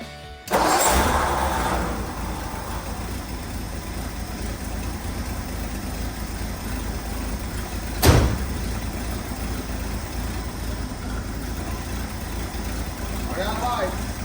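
A vintage car's engine cranks briefly and catches, then settles into a steady close idle, with a single sharp knock partway through.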